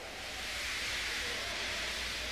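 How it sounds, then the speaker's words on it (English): Gordon, a steam engine, lets off steam in a soft, steady hiss: a broad, even whoosh that holds for a couple of seconds without rising or falling, faint and alone. "He just let off steam feebly"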